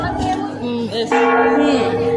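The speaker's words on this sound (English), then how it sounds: "I also rang the bell" A bell rings out with sustained metallic tones amid a noisy, crowded setting, its resonant hum layered over background voices.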